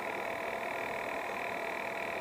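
A small decorative air cooler made for a Laddu Gopal idol runs steadily, giving a constant close-up whirring hum with no speech.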